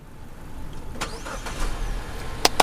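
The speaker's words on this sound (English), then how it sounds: "we're going to go ahead and start the vehicle with the dead battery" A Mazda with a dead battery cranks and starts after a jump start, the engine catching and idling close by, with a couple of sharp clicks at the end.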